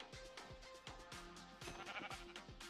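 Sheep in Minecraft bleat repeatedly in short wavering calls over a rhythmic series of soft clicks and thumps, fairly quiet throughout.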